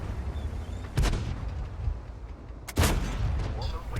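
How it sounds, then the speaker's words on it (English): Two loud tank gun shots in World of Tanks, each a sharp boom with a lingering rumble, the first about a second in and the second near three seconds, over steady low engine and battle ambience. "First shot goes high."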